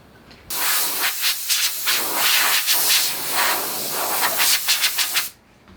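A spray gun hisses out metallic silver base paint onto motorcycle fairings in steady, close bursts that pulse on and off for about five seconds, with no talk.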